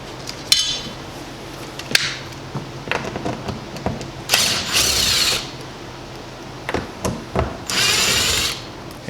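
A power drill backs out door hinge screws in short, repeated whirring bursts of varying length. Clicks and knocks fall between the bursts, all close and fairly loud.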